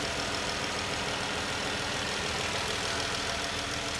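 A 2015 Dodge Charger SE engine idling with variable valve timing, a steady, continuous hum and rumble that holds an even level throughout, heard alone without voices.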